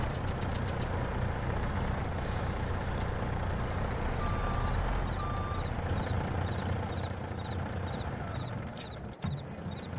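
Truck reversing beeps in the video game Farming Simulator 22, a steady series of evenly spaced electronic beeps over a low idling engine rumble, with a hiss of air brakes near the end.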